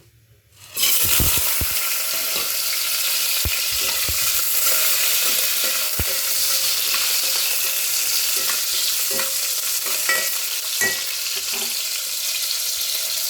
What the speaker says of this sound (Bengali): এবার এই ঘিটার মধ্যে যা যা উপকরণ নিয়েছি সেই সবগুলো আমি একটু ভেজে নেব।